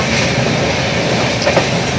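Steady rumble of a moving train heard from inside a carriage on a Bangalore to Kolkata journey, a continuous low roar with faint rattling and no talking.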